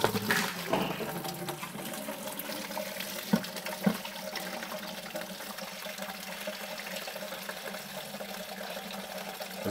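Coolant and water drain from a loosened hose on a Porsche 996 into a bucket, a steady close splashing trickle that runs throughout with a couple of faint knocks and no talk.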